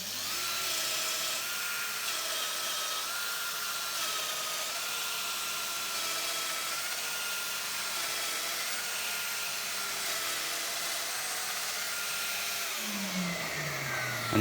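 Festool MegaDomino XXL joiner cutting a mortise in wood, a steady loud whining motor drone with a wavering cutter tone, running continuously, then winding down near the end.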